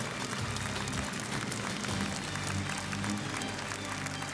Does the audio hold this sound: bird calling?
no